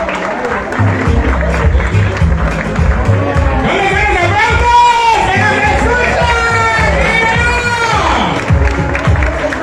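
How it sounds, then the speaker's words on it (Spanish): At a 60th birthday party, guests are greeted with loud applause and cheering from a crowd, mixed with voices and shouts, continuing throughout. "Recibámoslas con un fuerte aplauso."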